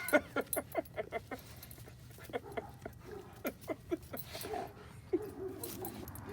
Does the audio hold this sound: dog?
yes